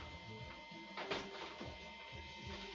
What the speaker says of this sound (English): And you probably can hear my printer.